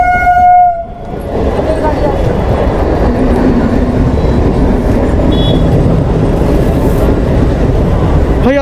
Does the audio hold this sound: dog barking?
no